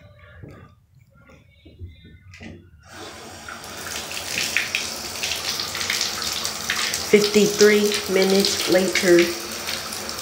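After a quiet start, water begins running from a bathroom tap to fill a bath and keeps pouring steadily. A brief spoken word is heard as the stream continues.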